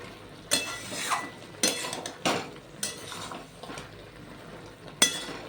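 A vegetarian flat-bean curry is stirred over a high flame, with about six distinct scraping, clattering strokes of a utensil against the pan, close by over a low sizzle and no talking.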